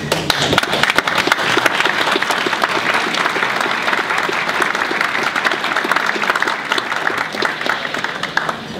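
An audience at an Educator of the Year award ceremony applauds steadily for several seconds, with individual sharp claps standing out from the thick, close wash of hands.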